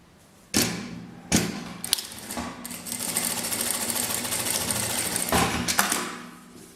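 A sewing machine runs in sustained bursts as it stitches strips of printed and coordinating fabric together, with a few sharp thumps as the fabric is handled, then a steady whirring motor hum.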